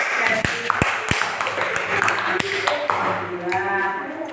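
Classroom applause, scattered clapping from students mixed with voices and room noise, a few sharp louder claps standing out near the start.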